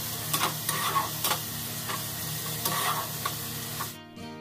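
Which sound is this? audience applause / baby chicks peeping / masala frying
masala frying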